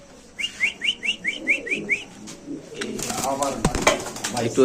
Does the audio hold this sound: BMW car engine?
no